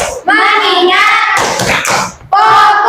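A classroom group claps a rhythmic tepuk fokus pattern in tight unison, loud bursts of hand claps interspersed with brief pauses and mixed with voices.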